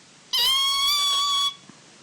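A high-pitched tone with bright harmonics sounds for about a second, loud and steady, then stops abruptly into quiet.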